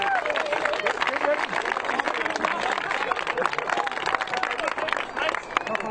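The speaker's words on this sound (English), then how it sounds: "So a round of applause for Stephen for everything he's done for Stephen." Audience applause at a Lancashire GAA senior cup final presentation for a departing club member, steady dense clapping with crowd murmur and voices through the whole stretch.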